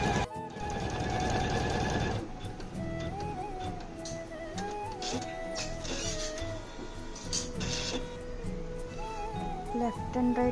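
A computer embroidery machine stitches a neck joint with a steady, rapid mechanical whirring and rattle. A brief louder burst of stitching comes first, then continuous stitching with shifting motor tones, close and prominent.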